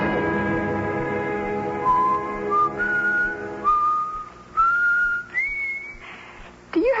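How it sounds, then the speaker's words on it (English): A person whistles a meandering tune alone, with long sustained notes that step upward in pitch, close and fairly loud, with short pauses between phrases. "Do you have to whistle like that all the time?"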